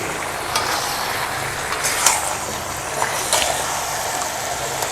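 Two kilos of mutton stir-frying in a large karahi, a loud dense sizzle with intermittent metallic scrapes and clanks of the ladle against the pan, close up.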